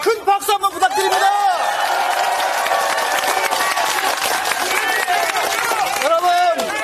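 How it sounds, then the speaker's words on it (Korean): A large outdoor crowd at a Korean election campaign rally in Gunsan breaks into loud, sustained applause with cheers, after and under a voice speaking through amplified speakers. "우리 전라북도 열성을 지켜주신 이재명 대표님께 큰 박수 한번 부탁드립니다"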